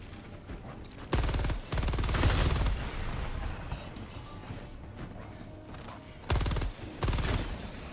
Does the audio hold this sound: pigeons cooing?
no